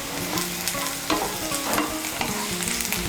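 Finely chopped large onion frying in oil, a close, continuous sizzle with steady stirring and a few sharper scrapes of the spatula, no voices.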